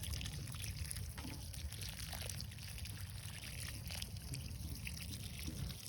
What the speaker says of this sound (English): just giving it a good water